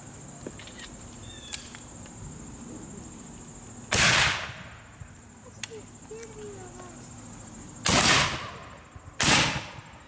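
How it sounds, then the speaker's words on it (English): Napoleonic-style musket volleys from living-history reenactors at Fort Totten, three loud outdoor blasts in sequence with decaying echoes, spaced several seconds apart over a constant background of crickets. "Company, firing by files. Commence, fire."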